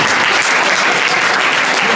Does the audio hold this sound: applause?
yes